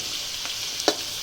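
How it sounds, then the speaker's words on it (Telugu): Onions frying in oil until reddish for biryani, a brief continuous sizzle with a couple of sharp spatter pops, close and unaccompanied by speech. "మన బిర్యానీకి వేయించుకుంటాం కదా ఆనియన్స్, సో అలా రెడ్డిష్ కలర్ వచ్చే వరకు వేయించుకోవాలన్నమాట"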